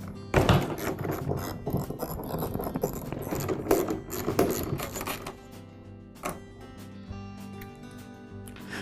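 Ratchet wrench removing the four nuts that secure the harness to a Troy-Bilt leaf blower, giving bursts of close, rapid metallic clicking with short pauses between runs, and a few lighter clinks near the end.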